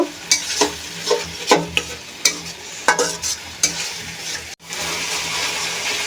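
A spice paste for rohu fish is sautéed in hot oil, with repeated scraping strokes of a spatula over a steady sizzle, followed by a continuous louder frying hiss.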